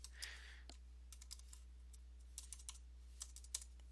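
PHP code is being typed on a computer keyboard, with quiet, irregular key clicks in short bursts over a low steady hum.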